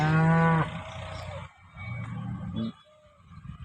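A freshly calved cow in a village in Banaskantha district, Gujarat, gives a loud, drawn-out moo up close, followed by quieter lowing calls and a short grunt near the end.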